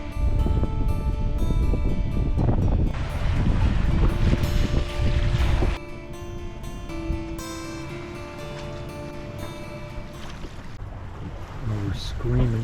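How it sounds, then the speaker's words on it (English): Loud rushing wind and water noise as a sailboat moves along in about 9 knots of apparent wind, blustery at first, then easing into a calmer wash. "we are sailing in 9 knots of apparent wind"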